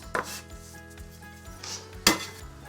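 Bench knife cutting pastry dough for a Linzer torte: two sharp scraping strikes of the blade against a board, close by, with faint rubbing between them and no talking.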